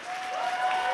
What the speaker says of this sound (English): You ready to clap now?